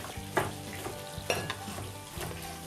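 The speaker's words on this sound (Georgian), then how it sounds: "ამასობაში ოსობუკო დაიბრაცა." Osso buco browns in a pan with a steady sizzle and frying crackle, punctuated by a few sharp clinks and scrapes as the pieces are moved.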